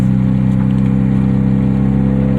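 A 2001 Hyundai Tiburon coupe engine runs steadily up close, its deep, even drone holding loud and constant with a slight rising rev throughout, no voices present.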